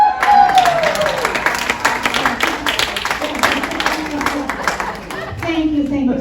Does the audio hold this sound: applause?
yes